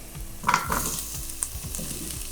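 Aromatics sizzling in a hot pan, a soft steady crackle with a few brief louder spits and clinks, heard close with no voices.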